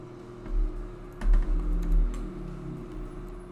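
Typing on a computer keyboard comes as short bursts of soft, close key clicks, with a few quick clusters among quieter pauses.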